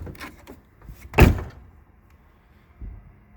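A car door with hinges bent in an accident, heard opening and then shutting with one loud solid thump, followed by a few faint knocks.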